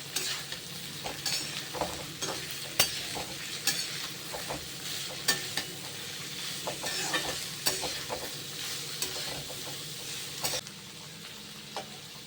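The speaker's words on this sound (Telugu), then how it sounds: "పచ్చిమిర్చి, ఇవి ఒక 2 నిమిషాలు ఫస్ట్ టాస్ చేసుకుందాం." Green chilies tossed and stirred in a hot pan while cooking mushroom noodles, with a steady sizzle of frying and repeated sharp clatters of the spatula scraping the pan, close and fairly loud, with no talking.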